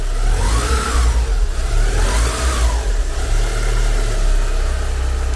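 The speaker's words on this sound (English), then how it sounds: "just a nice smooth running engine" Steady engine running from a 1990 Porsche 944 S2 Cabriolet, a 5-speed with close to 280 horsepower, holding a smooth continuous idle with slight rises in revs, close and loud with no talking.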